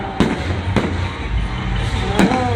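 A Thai bamboo rocket (bang fai) roars loudly outdoors at a launch with a rushing, steady blast, punctuated by a few sharp cracks.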